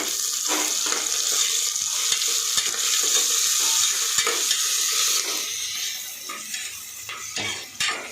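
Chopped vegetables hiss and sizzle loudly in a hot pan, all added at once, with steady stirring scrapes and occasional clinks of the utensil against the metal.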